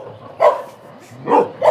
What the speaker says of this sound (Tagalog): madami yung mga aso sa labas